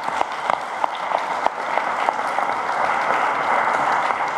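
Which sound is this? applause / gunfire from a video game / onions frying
applause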